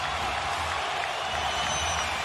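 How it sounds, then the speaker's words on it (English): A basketball arena crowd cheers and applauds in a continuous, dense roar that holds at an even level throughout. "The crowd starting to celebrate."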